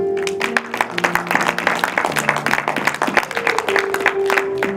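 A church congregation applauding, with dense, continuous, loud clapping from a crowd and a few voices and tones mixed in.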